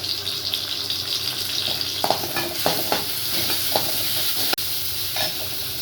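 Ingredients for egg curry sauté in a pan with a constant sizzle, broken by scraping stirs and light clinks of a spoon against the pan, close and steady throughout.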